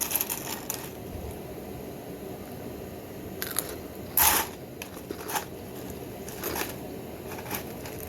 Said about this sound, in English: I like chewing on ice.